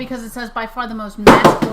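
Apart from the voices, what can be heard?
computer keyboard clacking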